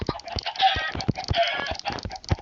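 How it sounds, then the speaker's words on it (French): Chickens cluck in rapid, overlapping bursts inside a Minecraft chicken coop in the video game, close and busy with no talk. "le but c'est de remplir le poulailler à fond pour pouvoir avoir plein de poules et après avoir plein d'œufs"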